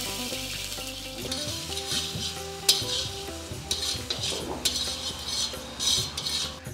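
Chopped tomato hits onions already frying in a pan for idli sambar, bringing a loud close sizzle with continuous spoon stirring and scraping, occasional metallic clinks, over a steady low hum and no voices.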